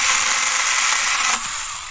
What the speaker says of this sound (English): cut them to length with our handy dandy little tiny chainsaw